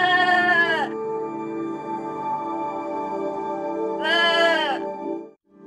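A lost sheep in an animated Bible story bleats twice, loud and close. The cries are separated by a few seconds of a steady held tone, and a voice may be imitating the animal.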